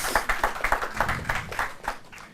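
Audience at a university law quiz competition claps for the contestants, a small group giving a quick, fairly close burst of distinct handclaps that lasts about two seconds.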